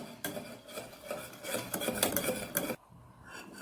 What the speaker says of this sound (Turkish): Tabi şu anda karıştırmaya devam ediyoruz.